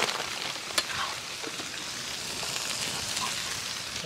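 Chicken liver stirred and frying on a tawa for a spicy village-style curry, giving a steady, moderate sizzle with soft scraping stirs and one sharp clink near the start, no voices.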